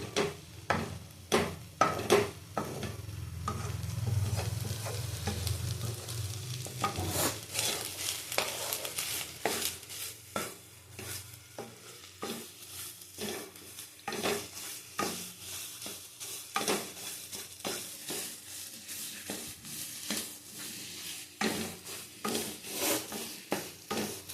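Mankachu (giant taro) paste fries in a pan while a spatula stirs and scrapes it in steady repeated strokes over a continuous sizzle, close and clear, with no talk.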